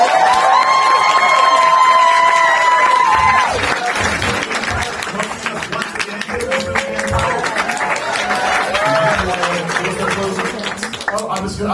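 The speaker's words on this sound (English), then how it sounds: "Round of applause for our panel." An audience at a Halloween Horror Nights panel gives a loud, sustained round of applause mixed with cheering, while a voice speaks over the clapping throughout.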